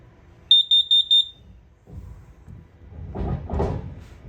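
Four quick, high-pitched electronic beeps in a tight even burst from the gas detector alarm of a 2018 Forest River Cherokee Grey Wolf 29TE RV, followed by quiet shuffling and faint handling noises.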